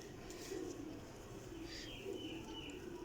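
Rampuri breeder pigeon pair cooing softly in a loft near Jhelum, low repeated coos over a steady background hum, no talk.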